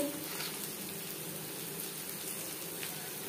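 Onions frying in oil for Bengali katla kalia: a faint, steady crackling sizzle with light popping, continuous and low-level with no talk.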